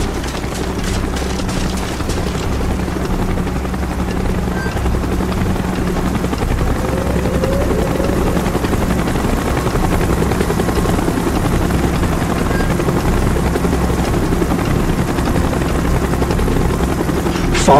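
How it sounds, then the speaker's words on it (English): A helicopter arrives in Call of Duty Black Ops, its rotor chop a loud, continuous, close throb that holds steady throughout over game ambience. "Chopper's inbound."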